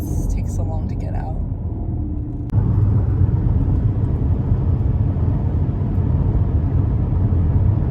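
Airport ambience: a steady low rumble and hum of a large terminal or aircraft interior, fairly loud and continuous, with a voice talking briefly at the start before the noise swells up.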